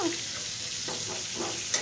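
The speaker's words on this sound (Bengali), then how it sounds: "দেখো মাছটা ভাজা হয়ে যাচ্ছে" Ginger-and-garlic marinated fish frying in a pan, a soft, continuous sizzle with faint splutters and a small clink near the end, with no talk.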